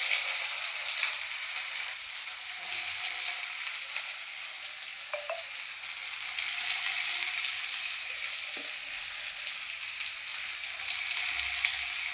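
Onions sautéing with mustard seeds in a pan, a steady, even sizzle running continuously at moderate level, with a couple of faint stir clicks and no talking.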